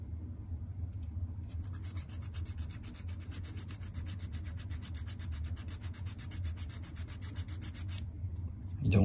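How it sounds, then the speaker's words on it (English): Steady back-and-forth filing on the steel dovetail of a Glock 48 slide for a night sight, a rapid even rasp of strokes lasting several seconds, close and fairly quiet, then a stop and a soft knock. "you're filing on this bottom part of the dovetail"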